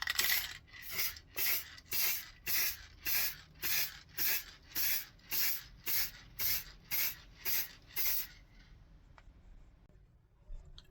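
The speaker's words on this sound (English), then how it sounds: "So I give it 3 or 4 coats of that varnish spray." Varnish spray can coating a routed recycled-pine wooden plaque in about fifteen short, even bursts of hissing spray, rhythmic and close, followed by a few quiet seconds.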